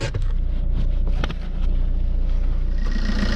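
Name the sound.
Fiat 500 engine running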